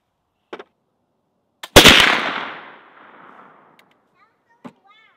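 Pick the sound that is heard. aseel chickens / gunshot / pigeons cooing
gunshot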